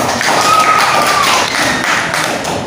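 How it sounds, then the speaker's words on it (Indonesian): A classroom of students claps for classmates who came forward at a Christian university in Toraja, giving a steady, loud patter of many hands throughout, close by. "yang tepuk tangan untuk semua yang maju ke depan"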